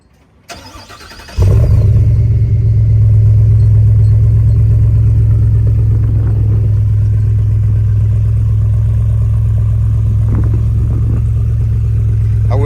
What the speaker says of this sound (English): go ahead and do a remote start. I'm sure I'll have some questions about the exhaust.